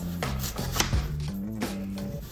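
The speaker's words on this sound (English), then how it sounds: "I'm just gonna come over here and just chop it into small pieces" A knife chops a peeled apple into small pieces on a cutting board, a steady run of close, fairly loud cuts and knocks on the board with no talking.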